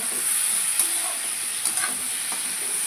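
Potato and pumpkin curry sizzles steadily in a pan with a bright, constant frying hiss and a few soft stirring scrapes.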